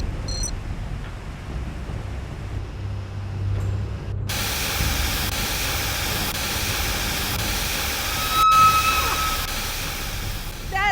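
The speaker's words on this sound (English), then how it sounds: "The steam has been vented." Steam vents from a machine in Jurassic Park: The Game, a loud, steady broadband hiss that runs continuously and swells slightly near the end, with no talking.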